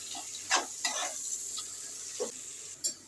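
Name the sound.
chopped onion frying in hot oil for mustard fish curry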